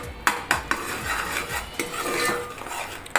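A spoon scrapes and knocks around a pan while puffed rajgira (amaranth) is stirred into a ladoo mixture, giving several sharp clinks among softer rustling stirs.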